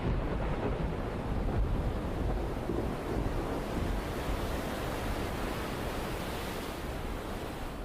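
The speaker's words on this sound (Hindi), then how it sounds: "समंदर में उठती विकराल लहरें, अपनी सीमा को तोड़कर जमीन पर बहता पानी" Huge ocean waves surge during a tsunami, a loud, continuous roar of churning water and wind-like rushing that stays steady throughout, with no voices.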